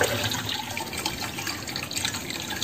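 Water flows steadily into a drained fish pond to refill it, a continuous splashing, gushing rush that stays fairly loud and close throughout with no talking.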